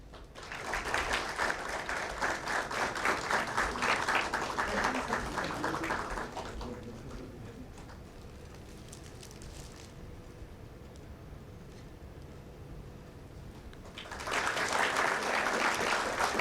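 Audience applause at a campus placement orientation inaugural ceremony, a sustained burst of many hands clapping, then a quieter lull before another strong round of clapping.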